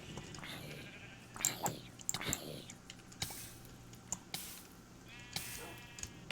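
Minecraft sheep bleat several times in a quiet tundra village scene, short nasal cries scattered among soft clicks and faint keyboard tapping, fairly low in level.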